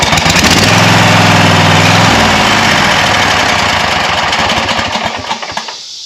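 A Kawasaki FX850V engine on a Wright ZK61 stander mower runs loud and close with a rough, throbbing idle, then winds down and sputters to a stop near the end.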